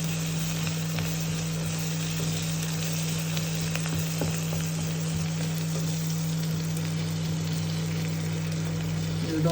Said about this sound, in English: We are adding some spring onion leaves and coriander stems.